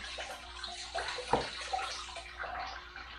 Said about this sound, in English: now I should be able to drain some more coolant here